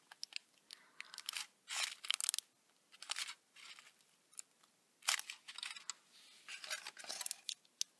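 Crinkly foil remains of a Kinder Egg wrapper handled close to the mic, giving quiet bursts of crackling and crunching in irregular clusters separated by short silences.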